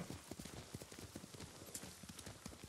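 Horse hooves clip-clop in a quick, steady rhythm in Ghost of Tsushima, close and fairly faint, a run of light repeated clops without any talking.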